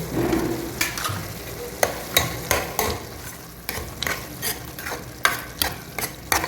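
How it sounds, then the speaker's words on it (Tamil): Curd being stirred into mutton gravy in a pan: irregular scraping and clattering strokes of a spoon against the pan over a low sizzle, close and fairly loud, with no voices. "நம்ம இதில் தயிரும் போட்டு மிக்ஸ் பண்ணிடலாம் அப்படியே."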